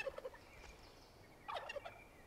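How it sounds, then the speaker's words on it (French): Turkey gobbling in the game Far Cry 5, two short bursts of rapid gobbles, the first brief near the start and a louder second one about a second and a half later, fairly close and alone. "J'ai entendu une dinde."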